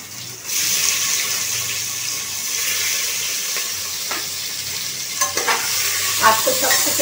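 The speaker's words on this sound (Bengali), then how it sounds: "আলুটা সামান্য নাড়াচাড়া করে আমি দিয়ে দিচ্ছি পেঁয়াজ কুচনো" Potatoes and chopped onion frying in a pot, a bright continuous sizzle that swells as the onion goes in, with scraping stirs and a few clacks of the spoon near the end, close and loud, no voices.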